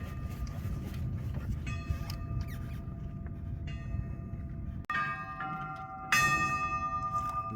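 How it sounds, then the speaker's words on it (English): A bell rings out with sustained, overlapping tones across a steady rumble of wind and water during a moonlight boat regatta, with a louder strike near the end. "The bell tolls."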